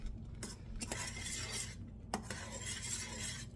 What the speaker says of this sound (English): while I get all this stirred in.